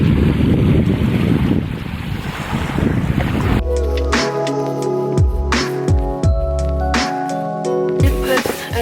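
Wind and waves wash along a beach beside a lighthouse in Seattle, first a broad steady roar, then buffeting wind noise over the surf for the rest of the stretch.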